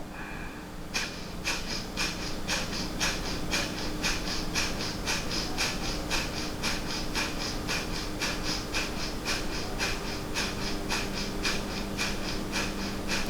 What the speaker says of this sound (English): like a forced exhalation followed by a very natural inhalation